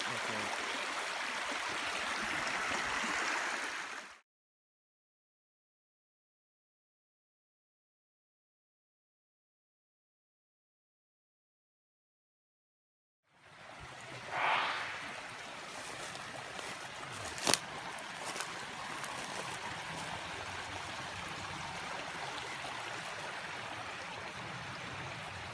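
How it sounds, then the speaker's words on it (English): A small stream flows steadily at moderate level as a soft, broad wash of water, cutting out entirely for several seconds before resuming with a few brief knocks and rustles over the flow. "little stream is still flowing pretty good."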